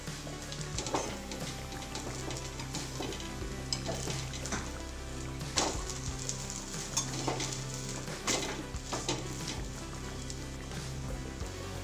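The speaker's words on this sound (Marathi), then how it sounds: "दुसऱ्या बाजूने ह्याला चांगलं शेकून घेऊ" A Spanish omelette fries on its second side in a pan, with a low steady sizzle broken by repeated scraping and tapping of a utensil against the pan, close and fairly quiet, without speech.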